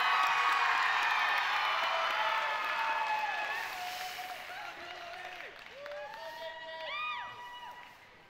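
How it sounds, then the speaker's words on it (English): Audience at a state FFA convention applauding and cheering, with loud broad clapping mixed with whoops and high shouted voices that gradually fade and then rise again in a brief burst of shouts near the end. "let's give our sponsors and the teams who participated another round of applause"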